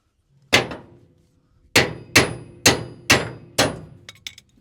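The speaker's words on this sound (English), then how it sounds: "I cannot swing this hammer." Hammer blows ringing on metal during a NASCAR build: one strike, a pause, then four evenly spaced loud clangs with bright ringing decay, followed by a few lighter taps.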